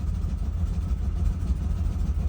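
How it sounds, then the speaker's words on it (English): The engine of a 2008 Ford Expedition idles rough, a steady low rumbling drone with slight unevenness, close and continuous, with no voices. "It's idling rough still."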